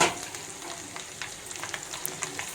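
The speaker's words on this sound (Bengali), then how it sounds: "এখন আমি এক এক করে তেলের ভিতর পিঠাগুলো ছেড়ে দেব" Rice flour pitha deep-frying in hot oil, giving a steady close sizzle with scattered crackling pops and no talk.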